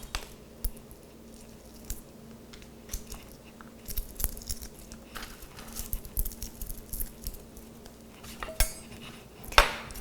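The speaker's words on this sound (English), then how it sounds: "what we're going to do is work it into a paste on the cutting board. So I'm flattening it with the side of my knife" A knife blade pressed flat against garlic on a cutting board gives close, scattered taps, knocks and soft squishing scrapes at an uneven pace, with no one talking.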